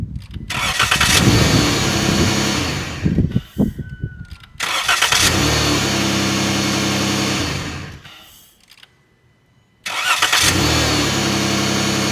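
A tractor engine, jump-started from a lithium jump box, cranks and catches repeatedly: three bursts of loud mechanical chugging, each stopping abruptly, separated by short quiet gaps and rattling.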